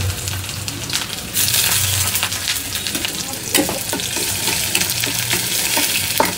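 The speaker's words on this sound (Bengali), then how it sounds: "এবার হচ্ছে পেঁয়াজ কুচি দিয়ে দিব।" Chopped onion hits very hot oil in a wok with a loud burst of sizzling, then keeps frying with a steady crackle while a utensil scrapes and clinks against the pan several times.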